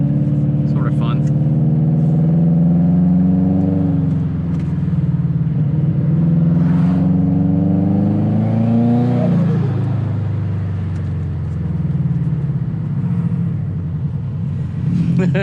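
A Subaru Legacy GT's turbocharged engine rumbles close and loud, its pitch climbing and falling through several revs with a low exhaust burble. Someone talks over it throughout.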